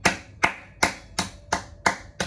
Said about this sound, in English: A round of applause for Zhang.